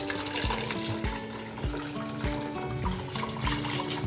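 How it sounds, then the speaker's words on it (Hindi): About a litre and a half of milk is poured from above into a pot of softened cooked rice for gajar kheer, a steady gurgling splash with a few slurping surges, close by. "इसके अंदर डालेंगे दूध"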